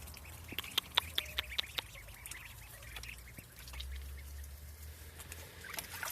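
Ducks in a backyard pen give a quick series of sharp quacks and calls, fairly close, then quieter shuffling and soft trickling sounds follow, with no talking.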